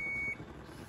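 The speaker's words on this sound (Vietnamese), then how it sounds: "các bác có nghe thấy tiếng tít là tiếng gì không ạ? Là cái bếp này lúc nãy em test cái tính năng là tự động mà tính năng hẹn giờ 1 phút đấy" One short, thin electronic beep from a kitchen stove's one-minute timer rings out at the start, then fades into quiet room tone.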